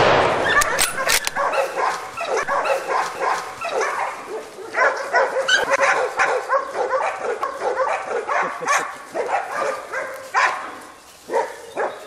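Hunting dogs bark and yip in rapid, overlapping bursts during a wild boar hunt, loud and close, with occasional whimpers and faint voices mixed in.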